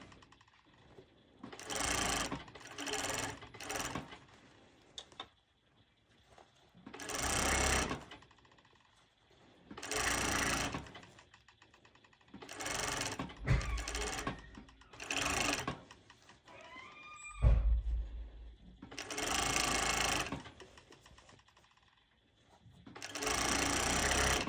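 A sewing machine top stitches fabric on a sporty long-sleeved top with an elastic underbust band, running in repeated short bursts separated by brief pauses and handling noises, fairly close and clear with no talk.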